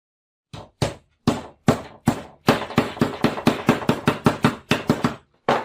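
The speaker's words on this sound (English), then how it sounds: "use a hammer to make the necessary indentation" Hammer blows driving metal into wood while upholstering a sofa bed built from two armchairs, about fifteen sharp close knocks, spaced at first and then coming in a faster steady rhythm with no talk.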